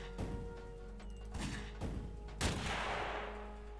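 Gunfire from a boarding gun in the video game Piratez: several heavy, booming shots at irregular intervals, the last one loudest and trailing into a long rumbling wash, over a steady low hum.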